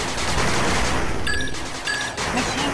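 Machine gun turret in 8-Bit Armies firing steady rapid bursts of retro-style gunfire over a dense game soundscape, with short tonal alert beeps cutting through.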